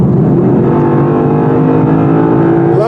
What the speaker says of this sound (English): Love the sound of that V8.